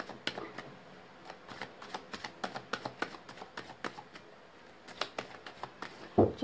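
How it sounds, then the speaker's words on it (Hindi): Tarot cards being shuffled by hand, with quick rustling riffles and soft papery taps in uneven bursts, close and fairly quiet. "मैंने कर लिया कार्ड्स की शफलिंग"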